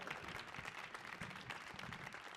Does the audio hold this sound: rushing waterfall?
no